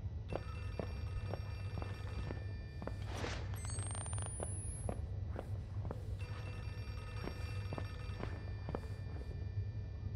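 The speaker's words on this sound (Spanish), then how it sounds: "¿Es un teléfono?" A telephone rings in the horror video game Outlast 2, a faint, distant bell whose repeated rings sit over a low, steady ambient drone, with some scattered thumps and clicks.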